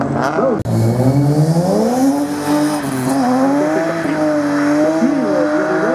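Citroën rally car revving hard at the start line of a slalom event, loud rising and falling engine tones with tire squeal, a commentator talking over it throughout.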